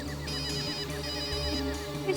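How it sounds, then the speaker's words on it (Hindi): A mobile phone ringtone plays steadily with a repeating melodic pattern, fairly loud and continuous, with no talking. "फोन वहां बज रहा है"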